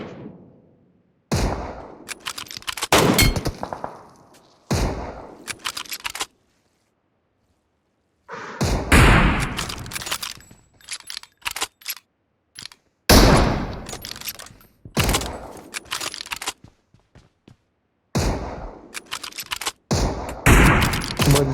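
Gunfire in the battle royale game PUBG Mobile, loud bursts of rapid shots repeating in clusters with short quiet gaps between them, no talking.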